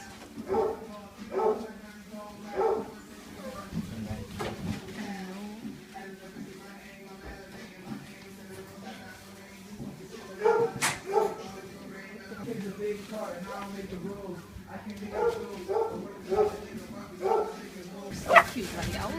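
Small puppies in a pet store yapping and barking in short repeated bursts with occasional whimpers, close by, while people talk over them throughout.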